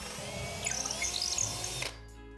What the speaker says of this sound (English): I'll just drill right through the drywall.